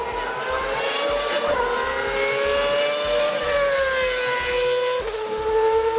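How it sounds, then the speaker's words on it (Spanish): A 2012-era Formula 1 race car engine screams at high revs, a loud, continuous high-pitched whine that climbs and drops sharply with gear changes a couple of times. "El ruido que mucha gente identifica como así suena la Fórmula 1 son los vehículos de como"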